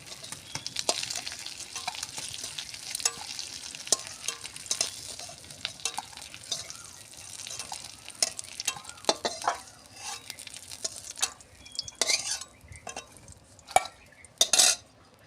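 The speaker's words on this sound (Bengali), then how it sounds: "পরিমাণ মতন তেল দিয়ে এঁচোড়টা ভেজে তুলে নেব।" Young jackfruit pieces fry in oil with a steady, close crackle, broken by the scrape and clink of a utensil stirring against the pan, with sharper metallic knocks near the end.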